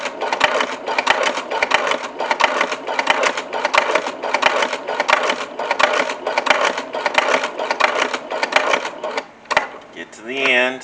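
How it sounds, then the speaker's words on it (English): A sewing machine runs a straight seam on a double magazine pouch, a loud, rapid, steady stitching rattle close by that continues for about nine seconds before stopping, with a voice speaking at the end. "I'm using that presser foot as my guide, so I can get a good straight stitch"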